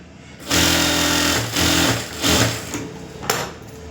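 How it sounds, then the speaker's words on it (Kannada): Stitching blouse lining cloth on a sewing machine, heard as three loud, close bursts of rapid needle whirring with brief pauses between them, then a short final spurt. "ಆ ಬಟ್ಟೆನ ಸ್ಟಿಚಿಂಗ್ ಮಾಡ್ಕೊಬಿಡೋಣ"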